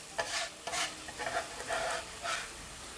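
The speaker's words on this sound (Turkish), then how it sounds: "Soğanı içine katıyorum." Onion being stirred into sizzling sautéed meat in a pan, with a steady frying hiss broken by several scraping stirs of a utensil at an even rhythm.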